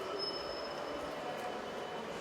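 Inside a busy train station in Breda, Netherlands, a train rolls past with faint wheel squeal and rumbling, a steady constant noise with no voices over it.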